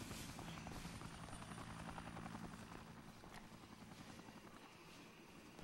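A helicopter in the Dead Rising video game drones with a steady rotor chop that holds throughout, loud and continuous, fading slightly toward the end with no talk over it.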